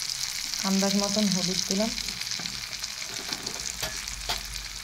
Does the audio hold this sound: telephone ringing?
no